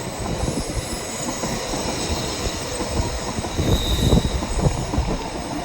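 Long bullet train in Japan running on rails, a continuous close rumble with rhythmic wheel clatter and a faint high squeal, growing slightly louder toward the end.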